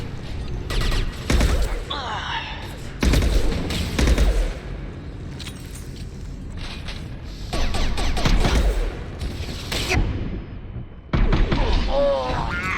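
Gunfire in the Mass Effect 2 video game rings out in repeated loud bursts across the battle, mixed with thuds and game effects, while voices talk over parts of it.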